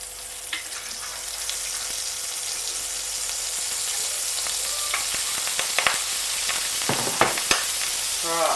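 Margarine and a splash of olive oil sizzle steadily in a frying pan, the hiss growing busier over time, with a few close clinks and scrapes of utensils.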